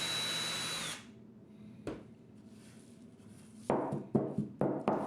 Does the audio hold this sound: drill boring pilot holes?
yes